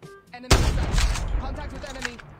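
Koshka sniper rifle fired in a video game: one loud, sharp shot with a booming tail, preceded by quieter game sounds.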